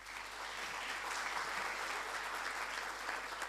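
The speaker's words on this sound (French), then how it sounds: "s'il vous plaît, de l'applaudir" An audience applauding at the opening session of a youth summit, a dense, steady wash of many hands clapping that holds constant throughout, heard at a moderate distance.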